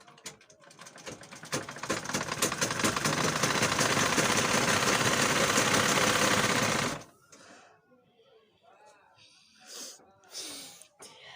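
A sewing machine stitches fabric in a loud, fast, continuous mechanical whir that builds and runs for about seven seconds. It stops abruptly, and short sounds of handling follow.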